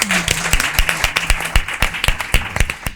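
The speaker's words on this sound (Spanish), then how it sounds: "entonces le dejamos con el aplauso" Scattered clapping from a seminar audience on renewable hydrogen and sustainable mobility, a sparse run of distinct, fairly close hand claps in an uneven rhythm, with a brief voice at the start.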